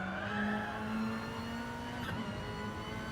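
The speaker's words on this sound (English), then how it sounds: "This car sounds very good, this Mitsubishi." A Mitsubishi race car engine in a racing video game, on a Sardegna road track, drones steadily at mid pitch with slight shifts in revs, continuous and moderately distant, with no talking.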